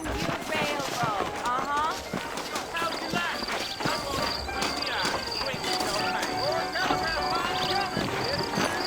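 Red Dead Redemption horses galloping, rapid clip-clop hoofbeats running continuously under spoken dialogue and game music.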